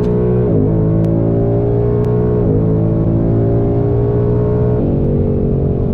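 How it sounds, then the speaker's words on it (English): Ford Mustang with a 10-speed automatic floored in third gear on a back road at about 50 mph: a loud, steady engine drone from inside the car, with pitch steps as the gears change. "3rd gear, floor it, then shift it back into drive."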